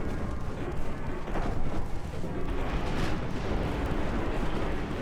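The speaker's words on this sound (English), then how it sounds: "And there go the torpedoes." Naval battle in Ultimate Admiral Dreadnoughts: a warship launching torpedoes at a battlecruiser amid a dense, continuous rumble of distant gunfire and booming explosions, with no clear separate launch sounds standing out.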